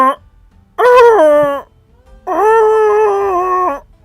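A person's voice imitates a strange howling creature like a beagle, two long wavering howls, the first rising and dropping, the second held steady, loud and close, with a short breath before.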